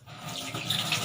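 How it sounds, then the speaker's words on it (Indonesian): Tap water runs from a just-opened faucet into a sink, rising quickly from quiet to a steady close splashing stream. "Kemudian nyalakan keran"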